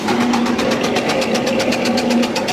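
A 3 kW, 1,500 rpm electric motor drives a silage and straw chopper. It gives a loud, steady mechanical drone with a fast, even pulsing rattle, close by, with no talking.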